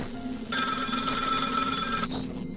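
A telephone bell rings in the horror video game Find Yourself, a steady ringing burst of about a second and a half that stands out clearly over a low, murky game ambience.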